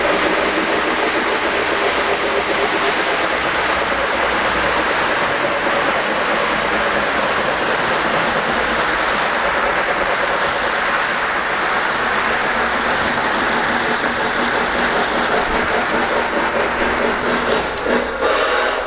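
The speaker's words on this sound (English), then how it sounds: "I pulled that train up the hill using the Hudson steam locomotive with a 9-car consist." A LionChief Plus Hudson model steam locomotive hauls a nine-car train up a grade on a Polar Express layout, giving a steady whirring rumble with rapid wheel clatter, close and continuous for the whole stretch.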